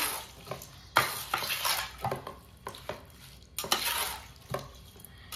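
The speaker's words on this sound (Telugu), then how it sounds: "నిమ్మరసం వెండేసిన తర్వాత మంచిగా కలుపుకోవాలి." A spoon stirs mushroom pickle in a pot after lemon juice is added, giving a series of wet scraping and clinking strokes against the metal at an irregular rhythm, fairly close and moderately quiet.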